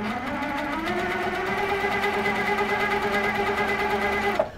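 A sewing machine runs steadily and close up while stitching a spiral, giving a continuous even mechanical hum with a rapid needle rhythm that stops abruptly at the end.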